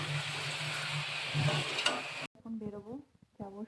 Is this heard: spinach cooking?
yes